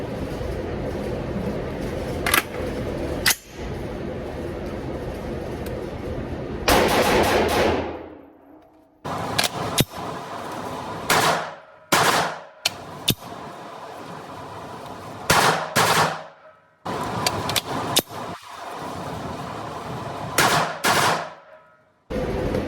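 Bursts of gunfire from an AR rifle with a 12.5-inch Hodge barreled upper and a makeshift bolt carrier group with an H2 buffer, loud close shots in several strings and rapid volleys separated by brief pauses, with no talking.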